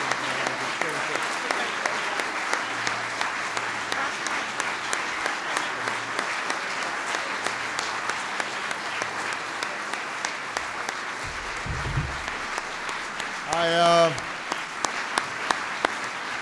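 Steady applause from guests at a White House reception for Justice Kagan, moderately loud and continuous, with a brief burst of other noise near the end.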